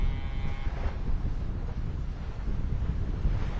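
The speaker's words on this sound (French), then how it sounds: "J'ai 20 nœuds de vent en apparent." Strong wind of about 20 knots buffets the microphone aboard a sailboat under genoa alone, with a steady low roar and rushing water beneath.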